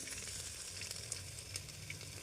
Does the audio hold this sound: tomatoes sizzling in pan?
yes